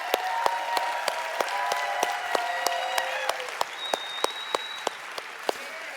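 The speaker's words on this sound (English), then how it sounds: "So nice round of applause for Steve and Gina Merritt." An audience at a talk gives a round of applause, a fairly soft, steady patter of clapping with a few sharp, distinct claps standing out at regular intervals and faint voices mingled in.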